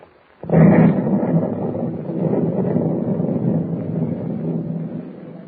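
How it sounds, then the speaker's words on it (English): A sudden heavy boom from explosions aboard an old ship opens into a long, loud roaring rumble that slowly fades, like a big blast with rushing wind or water noise. "If those explosions are what I think they are, we'll be sinking any minute"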